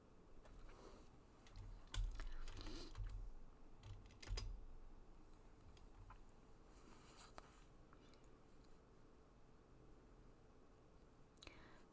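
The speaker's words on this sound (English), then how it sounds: "Just going to be typing, and you guys can watch the brainstorming process." Someone types on a computer keyboard in a quiet room, faint clicks with a few louder key taps and pauses, close and soft with no speech.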